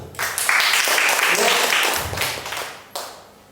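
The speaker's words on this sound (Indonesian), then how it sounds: "Tepuk tangan." A seminar audience listening to a health and beauty product presentation breaks into a short burst of clapping that swells, holds briefly, then fades, with a final sharp clap near the end.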